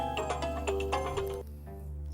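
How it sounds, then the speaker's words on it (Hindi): A phone ringtone plays a melodic electronic tune of repeated tones for over a second, then stops, leaving a low steady hum. "मोहन बाबू का फोन"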